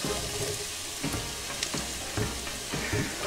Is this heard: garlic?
yes